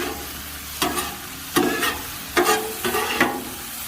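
Shrimp sizzle steadily on a Blackstone griddle while a spatula flips and stirs them in four distinct scraping bursts over a constant frying hiss, close and fairly loud.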